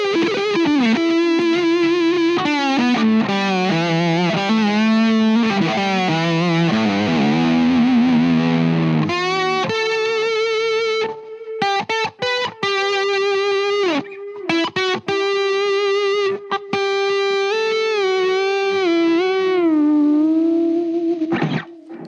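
Distorted electric guitar through a Blackstar Beam Mini practice amp, with bending sustained lead lines followed by chugging, gated palm-muted riffs, loud and up close with no talking.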